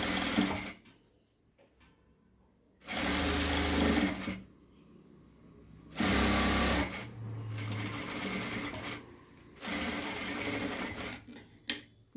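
A sewing machine stitching thread piping on fabric runs in several separate loud, rapid whirring bursts, separated by quiet pauses as the work is adjusted.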